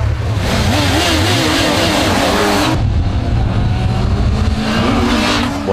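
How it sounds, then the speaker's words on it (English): A loud, close motorcycle engine revs hard and holds high through a wheelie. It drops pitch sharply midway, then climbs again as wind rushes past. "One last wheelie before bedtime."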